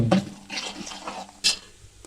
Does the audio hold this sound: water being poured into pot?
yes